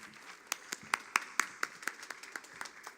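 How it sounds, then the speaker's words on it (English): Sparse applause from a small audience at an urban ideas forum, a few seconds of distinct, irregular claps that are fairly close and gradually thin out. "So will you please join me in giving an applause for Cy?"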